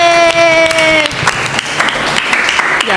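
Applause from a class, a dense burst of many hands clapping at close range that starts partway through, while a held musical tone fades out underneath at the beginning.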